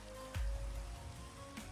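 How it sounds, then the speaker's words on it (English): Steady rain falls in the Minecraft video game, a soft continuous hiss of drops with a couple of brief low thumps, with no voices over it. "It's raining."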